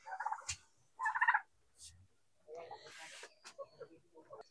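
Poultry on a farm with chickens and ducks, where birds call in short clucking and gobbling bursts, quiet and fairly close. Brief gaps fall between the calls.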